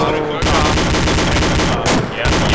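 Dense, continuous gunfire from the military video game Arma II, rapid machine-gun bursts rattling loud and close with only brief gaps, as a tank battle plays out near a compound.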